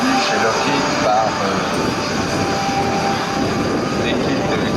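Engines of a Lockheed Super Constellation at an air show at Le Bourget in 2013 produce a steady, loud roar with a continuous broad rumble, while a voice talks over it.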